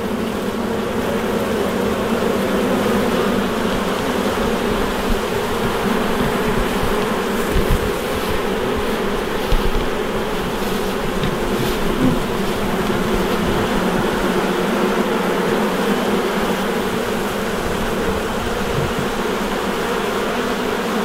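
Honey bees from a very active hive buzz continuously and densely all around, a steady close drone of many insects with occasional louder passes near the listener.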